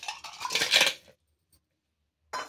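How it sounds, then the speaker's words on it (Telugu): Ice cubes tumble into a mixer jar as a brief, bright clatter lasting about a second, followed by silence and a short rattle at the end. "ice cubes"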